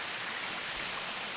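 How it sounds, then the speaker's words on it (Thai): Rain falls in a rocky forest in southern Laos, making a steady, even hiss with no breaks and no voices. "ที่ฝนตกเนาะทุกคน ฝนตกแห้งเนาะนี่ฮักกระเซาเนาะฮักกระเซาตก"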